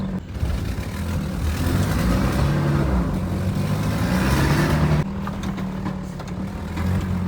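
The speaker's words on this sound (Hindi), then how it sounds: "पानी में गाड़ी फंस गई थी और बड़ी मुश्किल से निकाली है" A car engine labors and revs loudly while the vehicle is stuck in water in a Saudi village, a sustained droning roar that eases slightly near the end with rumbling water noise.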